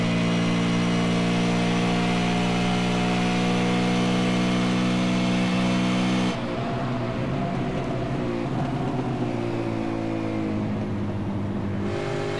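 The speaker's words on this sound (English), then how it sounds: "really hard on the limiter through there. Yeah, I could hear it backfiring a bit coming down through that sweeper" A V8 Supercar engine running at Watkins Glen in a 2014 race, holding a loud, sustained high-rev drone that abruptly shifts to a rougher, lower tone partway through, then climbs again.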